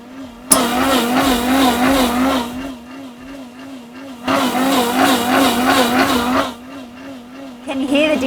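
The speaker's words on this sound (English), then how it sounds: "The sound enclosure drastically reduces the blending noise." A Kuvings CB1000 auto blender runs inside its sound enclosure, giving a muffled, wavering motor hum with rougher churning bursts that swell and ease in two main waves.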